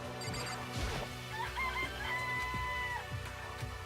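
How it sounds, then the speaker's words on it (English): A rooster crows once in the video game Danganronpa, a clear rising and falling call in the middle, with clucking chickens and other game sounds around it. "I like how they make a rooster noise, even though most of them are just hens."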